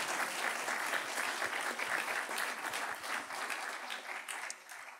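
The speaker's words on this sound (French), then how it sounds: "Merci beaucoup, Monsieur Murer, qu'on peut applaudir également de son intervention" Sustained applause from an audience at a French round-table discussion on France, war and the BRICS, dense and steady throughout before thinning out in the final half second.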